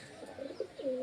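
Pet pigeons give a short, close coo that swells into a fuller, sustained rolling call toward the end, with no other sounds competing.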